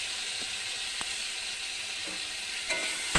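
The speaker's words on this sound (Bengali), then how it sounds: "এবার একটু কষবো ভালো করে। এর মধ্যে আমি আদা বাটাটাও দিয়ে দিই।" Spice masala and ginger paste sautéing in a pan, a steady close sizzle with faint scraping stirs running alone throughout.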